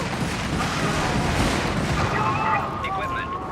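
Dense, loud video-game combat din: an incendiary bomb bursting amid sustained gunfire and rumbling battle noise near a tank, with tonal whines rising toward the end.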